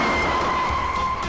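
A car pulls away, its steady engine and tyre noise continuous and fairly loud, with a slight skid-like hiss and no voices over it.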